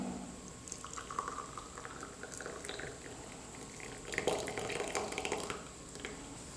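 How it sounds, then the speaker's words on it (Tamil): Boiled cumin water being strained after cooling, a soft continuous pouring and trickling of liquid with faint splashes and drips, close by and fairly quiet, with a brief stronger splash near the end. "சூடு ஆறிடுச்சு, இப்போ வடிகட்டிக்கலாம்."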